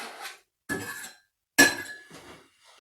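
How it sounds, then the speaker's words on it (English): Utensil clinking against a bowl while spices are mixed into wet ingredients, three or four distinct sharp metallic-glassy taps with short ringing tails, close and isolated. "Go ahead and mix that all up here real quick"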